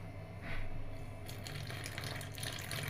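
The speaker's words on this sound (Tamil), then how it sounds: "இப்போ நல்லா சேர்த்துட்டு கொஞ்சம் தண்ணி ஆட் பண்ணிக்கலாம்." Water pours into a bowl of flour and cornflour batter seasoned with pepper and salt, a soft, quiet splashing trickle that starts partway through and continues, with no talking.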